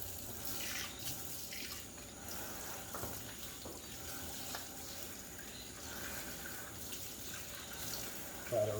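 Tap water runs steadily into a kitchen sink to rinse a one-pound packet of raw ground beef, a continuous splashing hiss with faint talk in the background.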